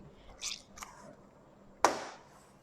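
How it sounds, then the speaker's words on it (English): Wet chapati dough kneaded by hand with knuckles in water, a few soft squishes followed by one sharper, louder wet slap. "we put our hand inside the water and we knead it with our knuckles"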